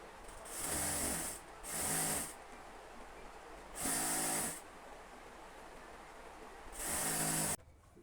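An electric sewing machine stitches a petticoat seam in four separate whirring bursts, each lasting about a second, with short quiet pauses between them; close and fairly loud.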